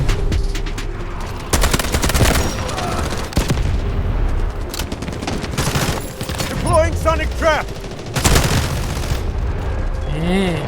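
A SCAR-H rifle fires in bursts while the player jumps in the shooter Delta Force, with sharp, loud, close reports, some heavy booms, and talk in another language running underneath.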